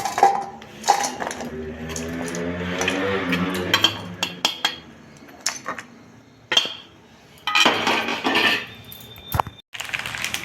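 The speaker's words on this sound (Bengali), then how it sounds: "ডার্ক চকলেট এই এটা কেটে নিচ্ছি" A knife chops dark chocolate for a chocolate bar cake, giving irregular clacks and clinks against a board and bowl, with a short run of rapid taps and scraping in a kitchen.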